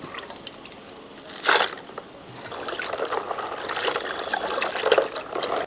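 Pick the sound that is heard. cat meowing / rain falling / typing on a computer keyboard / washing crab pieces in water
washing crab pieces in water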